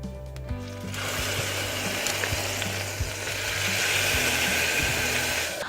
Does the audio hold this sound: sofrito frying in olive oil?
yes